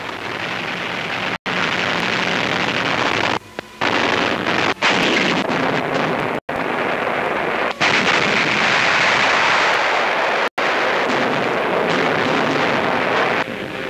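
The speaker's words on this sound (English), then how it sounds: "Flashes from our guns and tracer bullets lit the night sky." Wartime guns and artillery firing at night: a dense, roaring barrage of continuous heavy gunfire and blasts, loud and unbroken for the whole stretch with only brief gaps.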